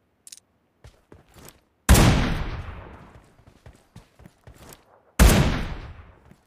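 Two heavy AMR sniper shots ring out in BGMI, a mobile battle royale game, spaced about three seconds apart. Each is a sharp, loud crack with a long fading tail, and faint clicks and taps fill the quieter gaps.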